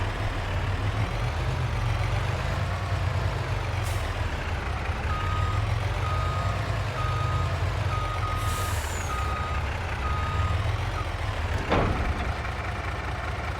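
In Farming Simulator 22, a truck with a trailer idles with a deep, constant engine rumble, then reverses with a steady run of evenly spaced backup beeps, close, with a brief air-brake hiss near the end.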